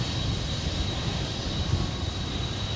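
Airplane taxiing fast on the ground, a steady broad engine roar with a constant high whine, holding even and fairly loud throughout without speech.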